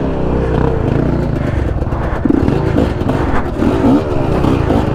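A two-stroke enduro motorcycle rides through a Brazilian forest, its engine close and loud, buzzing and revving with rising and falling pitch under load and rattling clatter throughout.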